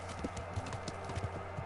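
Horse hooves on the ground in the video game Kingdom Come Deliverance, carrying a rider in full plate armor: a quiet, steady clip-clop of a walking gait, with no speech.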